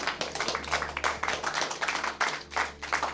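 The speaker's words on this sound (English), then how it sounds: "This deserves a round of applause," A small audience claps in a brief, uneven burst of close hand claps, moderately loud and rising and falling, with no talking.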